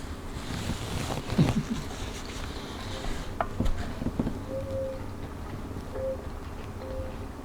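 An owl hoots three times in the distance, soft, short and evenly spaced, heard outdoors over a low background rumble with a few knocks and bumps.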